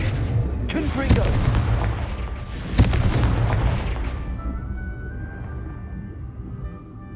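Booming magical blasts from the Confringo fire spell in Hogwarts Legacy, two sharp explosive bursts with crackling, rumbling tails fading into a quieter hum.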